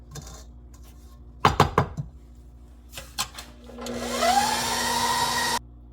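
An electric mixer whirs up to a steady, loud motor drone while mixing pineapple coconut cake batter, after a few sharp clanks of bowl and utensils.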